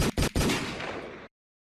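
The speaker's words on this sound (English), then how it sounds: "The gunshots. They're ringing off, especially this week." Gunshot sound effects, two or three quick sharp bangs in rapid succession followed by a rolling burst, loud and close, then cutting off abruptly to silence.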